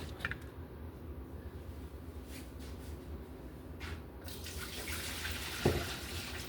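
Water is poured off a pot of potatoes in a kitchen: a faint, steady splashing trickle into a sink that ends with a soft clunk.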